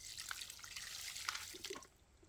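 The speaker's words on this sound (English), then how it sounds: "I brought a little bit of water first" Water poured from a small container onto dry cactus potting soil while repotting a South Australian short spine, a soft close trickle with a few drips and splashes before it stops.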